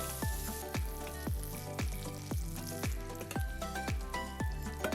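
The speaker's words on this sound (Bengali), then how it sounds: "ফ্লেমটা মিডিয়ামে রেখে পটলগুলোকে এবার বেশ লাল লাল করে ভেজে তেল থেকে তুলে নিতে হবে" Pointed gourd pieces fry in hot oil over a medium flame, a soft steady sizzle accompanied by regular, evenly spaced ringing knocks with sustained tones, like a utensil repeatedly striking a metal pan.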